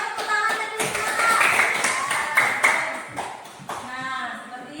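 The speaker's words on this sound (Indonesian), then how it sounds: "Coba tepuk tangannya dulu semua." A school class applauding, many hands clapping together in a dense burst that swells and then thins out, with voices mixed into the clapping.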